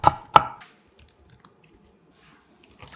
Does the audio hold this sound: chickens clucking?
no